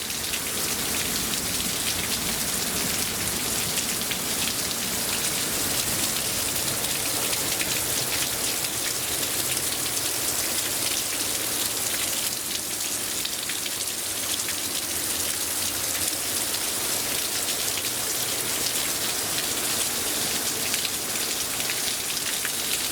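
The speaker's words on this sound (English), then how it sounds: "you see, the rain is here." Steady, dense rain pouring down and pattering on hard surfaces, a constant even hiss with no voices, continuing unbroken throughout.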